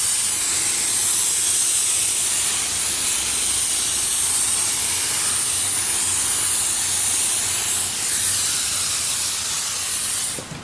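A long, steady spray of activator for water transfer printing hisses continuously up close for several seconds, then cuts off abruptly.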